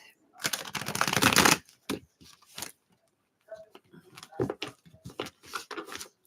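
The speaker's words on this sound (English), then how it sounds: "so let's get these shuffled and get Sunshine a general reading" Tarot cards shuffled by hand in a long riffling burst, then a series of shorter crisp flicks and slides after a pause.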